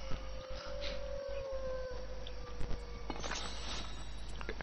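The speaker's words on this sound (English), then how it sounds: "I can hear a wolf." A wolf howls in the video game Fortnite, a long sustained wavering tone over steady game noise, with footsteps and other game sounds around it.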